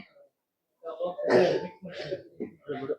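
A few close, rough coughs and throat-clearing bursts after a short silence, coming in quick succession.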